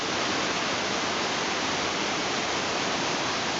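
Huai Sai Lueang waterfall in Chiang Mai, Thailand, a drop of about 60 metres fed by a clear year-round stream, makes a dense, even rushing hiss that stays constant and close, with no voices.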